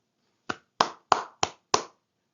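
Five distinct, sharp hand claps in a slow, fairly even rhythm, close and dry against silence, given in tribute to Korean War veterans at a speech.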